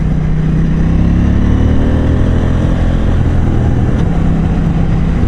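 A KTM 790 Duke motorcycle's engine drones loud and close while riding, a steady powerful note with rising harmonic tones as it pulls through the revs, and wind rush runs underneath.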